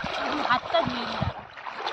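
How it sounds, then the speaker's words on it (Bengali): Hands are washed in cold river water, bringing brief splashes and trickling under and between a person's speech, close to the microphone. "হাতটা ধুয়ে নিই।"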